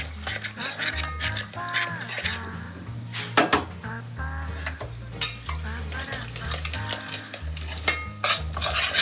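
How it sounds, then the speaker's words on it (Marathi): Onion and grated coconut masala for a chicken curry frying in a little oil, with steady stirring and utensil scrapes against the pan, close and continuous under background music. "फक्त थोडंसं तेलामध्ये फ्राय करूया आपण त्या मसाल्याला"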